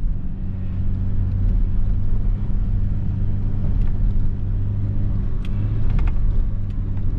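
A Chevy Colorado pickup rumbles loudly through sand dunes, its engine a deep steady drone heard from inside the cab, with faint rattles and clicks scattered on top.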